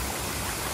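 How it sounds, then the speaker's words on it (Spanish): Waterfall on the Río Segura in the Almadenes canyon, Murcia: a steady, dense roar of falling water that fills the whole moment evenly, with no voices over it. "en la gran cascada que hay aquí"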